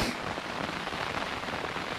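Heavy rain pours down at a wild camp in wet, windy weather, a dense, loud, steady roar of drops hammering nearby.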